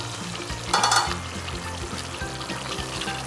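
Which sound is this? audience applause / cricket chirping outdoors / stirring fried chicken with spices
stirring fried chicken with spices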